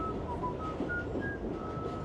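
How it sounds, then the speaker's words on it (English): A short, thin whistled tune from the horror film Creep 2 (2017) plays over a muffled background rumble, a few sliding notes in quick succession. "Oh, he's doing the whistling."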